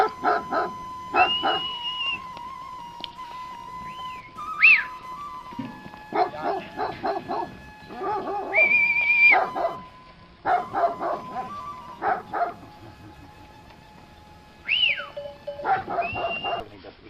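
Dogs bark around a sheep pen and dairy in hilly countryside near Veles, in repeated clusters of barks at moderate distance, with thin whistle-like tones drifting between them.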